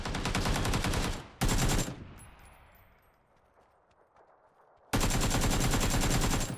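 Loud, rapid automatic gunfire from a PUBG console match, two close bursts at the start, then a fading echoing tail and quiet, before another sustained burst breaks in.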